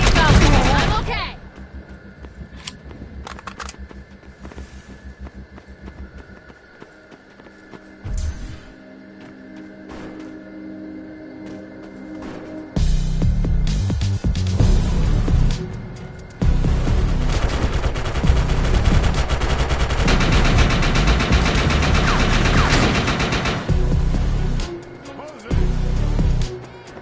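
Loud bursts of gunfire from a firefight against turrets in the video game Defiance 2050, with rapid automatic volleys and short gaps between them, followed by a longer stretch of sustained shooting.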